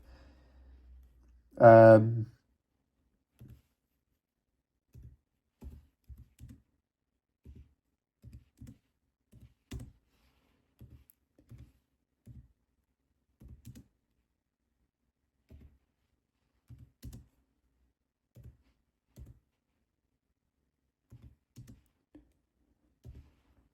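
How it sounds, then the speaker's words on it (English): Quiet keystrokes on a MacBook Neo laptop keyboard tap out a sparse, irregular series of soft clicks after a brief breath or sigh near the start. "It is also really quiet as well, so if I just type"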